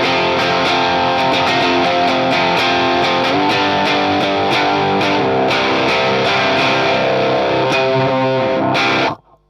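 Heavily distorted electric guitar on an inexpensive rig, dialed toward a Biffy Clyro style tone, chugging steadily at loud, constant level with a dense full-band wash for about nine seconds before cutting off abruptly.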